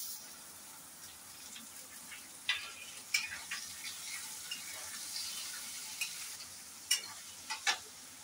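Onions frying in hot oil with garlic and green chillies in a home kitchen, giving a steady soft sizzle with occasional sharp clinks and scrapes of stirring.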